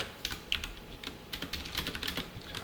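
Quick, light keystrokes on a computer keyboard while C code is typed, irregular close clicks in short bursts with no talking.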